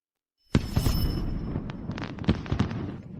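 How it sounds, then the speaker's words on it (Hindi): Fireworks burst in a rapid series of loud, sharp pops and crackles after a short silence, purple shells going off one after another with a dense rumbling tail. "ये बैंगनी आतिशबाजी बहुत खूबसूरत है।"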